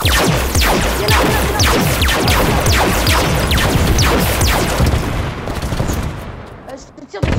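Rapid automatic gunfire in Halo 5 rattles loudly in quick repeated bursts, a steady stream of sharp shots that thins out toward the end.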